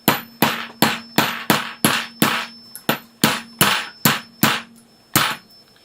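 A hammer strikes a lead ball on an anvil, driving it into a small taper for a .308 Winchester load: about thirteen sharp, ringing metallic blows at a steady, fairly quick rhythm, close and loud, with no talk.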